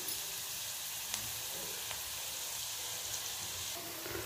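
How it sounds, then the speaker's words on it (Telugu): Chopped onion with a spoon of salt fries in a pan, giving a steady, moderately faint sizzle with a few soft clicks from stirring and no speech. "ఆనియన్ బాగా ఫ్రై అవ్వాలండి"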